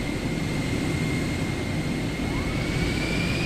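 Steady broadband airplane engine roar during takeoff in Microsoft Flight Simulator 2024, a constant loud drone with a faint rising whine on top, running unbroken throughout with no talking.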